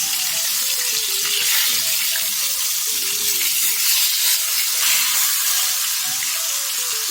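Fish frying in hot, slightly used oil for a home fish fry gives a loud, steady sizzle and crackle that continues throughout without a break.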